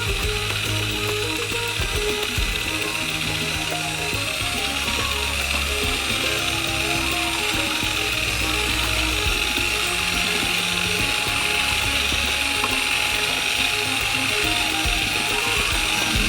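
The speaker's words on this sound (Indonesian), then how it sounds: "sambil mencampurnya dengan mixer." An electric hand mixer whirs steadily through cake batter for a giant homemade Kinder Surprise, a continuous mechanical buzz with a faint rattle that runs unbroken for the whole stretch, close and moderately loud.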